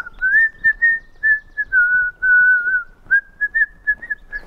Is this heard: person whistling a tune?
yes